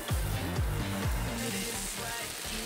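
Onions stir-fried in cola for hot dogs sizzle steadily and close up in a hot pan, a dense continuous hiss with bits of clatter from stirring.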